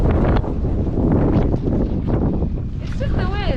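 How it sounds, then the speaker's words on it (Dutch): Strong wind roars across a snowy mountainside at Mont Vallon, Méribel, during a snowstorm, a steady buffeting rush close on the microphone while people talk over it. "It's just the wind."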